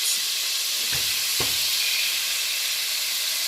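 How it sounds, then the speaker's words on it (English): Butter melts in a pan while bell peppers and onions cook, giving a steady, fairly loud sizzle with a couple of brief soft knocks early on. "So I'm going to let this melt down some as the bell peppers and onions cook."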